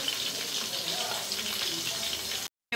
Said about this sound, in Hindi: अभी 5 मिनट के लिए हम इसको भून लेते हैं